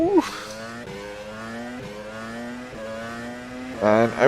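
A Peugeot 407 WTCC race car engine in a sim racing game climbs through rising revs with sharp upshifts roughly every second, then flares into a loud rev burst at the end, close and dominant.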